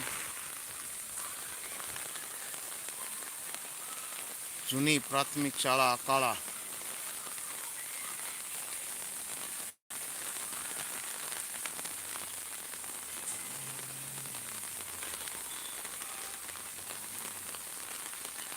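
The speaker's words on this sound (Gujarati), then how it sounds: "જોરદાર વરસાદ વરસી રહ્યો છે સવારના છ વાગ્યાનો વરસાદ ચાલુ છે" Heavy rain pours down steadily in Akala village, a dense continuous hiss near the mic, with someone speaking briefly over it and a short cut partway through.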